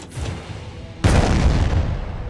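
A single cannon shot fired from an anchored sailing ship. About a second in, a sudden loud blast rolls out and slowly decays over a low, rumbling background. No voices are heard.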